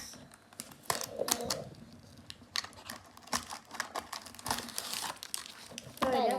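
A chocolate popcorn snack package is crinkled and torn open up close, with sharp plastic rustles and crackles in irregular bursts and a louder crinkle near the end.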